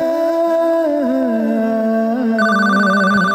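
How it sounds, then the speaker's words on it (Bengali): A phone rings with a steady electronic melody, loud and close, playing continuously without any talking. "মইনুলের ফোন বাজতেছে, ও কনে গেল"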